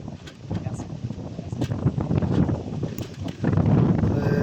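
Strong wind gusts buffet the microphone outdoors over open grassy fields, a steady roaring rush that swells louder toward the end.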